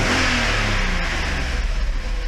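A Mercedes 500E W124 V8 runs steadily after its first start on thin oil, a loud, continuous low rumble with a slight lift in revs early on before settling into an even idle, with no one talking.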